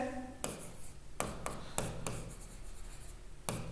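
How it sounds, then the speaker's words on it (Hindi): Chalk or marker writes a question on a classroom board in several short, sharp scratchy strokes with small pauses between them, close and fairly quiet, with no talking. "फिर एक क्वेश्चन लिखते हैं"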